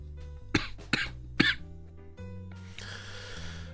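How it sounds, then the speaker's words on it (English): Three sharp, close coughs in quick succession, then a quieter stretch with low background hum and a soft rustle. "Oh, my cough is still here, chat."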